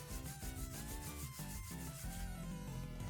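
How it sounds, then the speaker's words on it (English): A pinball machine backbox is sanded down in rapid, rhythmic rasping strokes, close and steady with no talking. "it was time to sand it down"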